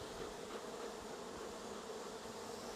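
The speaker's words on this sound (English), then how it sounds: "Smoking bees out of the way." Honeybees hum around an open hive being smoked, a soft, continuous droning buzz with no voices, steady and fairly faint throughout.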